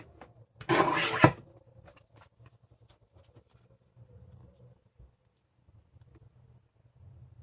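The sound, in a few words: paper trimmer cutting a paper strip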